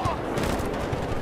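The basic gun in Battlefield Bad Company 2 fires a quick burst of shots with a brief rattle of gunfire, heard at moderate loudness over in-game background noise.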